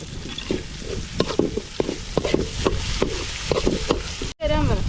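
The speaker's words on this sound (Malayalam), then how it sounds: "അതിലോട്ട് സോസ് ഒഴിച്ച് മിക്സ് ചെയ്തെടുക്കാം" Fish marinade of lemon and tomato sauce being mixed, quick uneven clicks and wet scrapes of a utensil against the bowl, then a sudden brief cut and a short burst of voice at the end.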